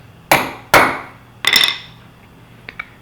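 Sharp metallic hammer blows setting a round rivet on a Cub Cadet cast iron axle: two single strikes, a quick cluster of hits, then two lighter taps, close and loud in a quiet space.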